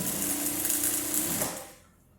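A sewing machine runs steadily as it stitches a dart on a wrap dress, then stops abruptly near the end and leaves quiet room tone.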